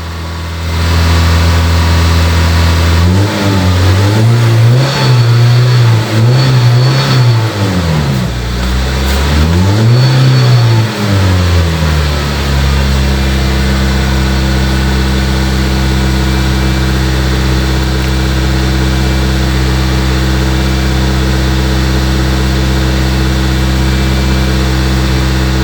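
A car engine running without a thermostat revs up to around 2,500 RPM, rising and falling twice in loud surges before settling into a steady, droning hum, close and continuous.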